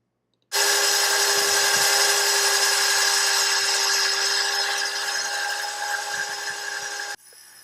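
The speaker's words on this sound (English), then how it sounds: "to have a nice tile saw to cut all of these tiles" A tile saw cuts ceramic tile for a countertop tiled over granite, starting abruptly with a loud, steady high whine and grinding that holds for nearly seven seconds, then stops suddenly. No talking.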